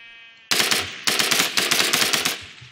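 Rapid gunfire from a weapon in a Minecraft-style modded game, with bursts of repeated loud shots close up: a short pause, then a fast rattling string of shots that tapers off, with no talking.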